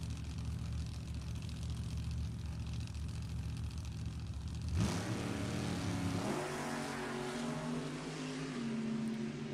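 A loud drag racing engine roars steadily, then surges sharply midway as the car accelerates hard down the quarter mile at an NHRA nostalgia event, its pitch climbing through the revs with a constant rumbling background.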